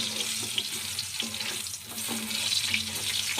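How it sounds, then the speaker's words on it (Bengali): Brinjal (eggplant) fries in oil with a steady, close sizzle and crackle, broken by a few faint stirring sounds. "এবারে বেগুন কটা ভেজে নেব"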